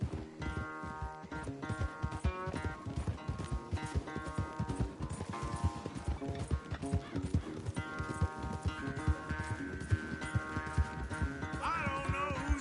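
Horse galloping in the video game Red Dead Redemption, rapid rhythmic hoofbeats pounding steadily over a race, mixed with game music tones and no talk.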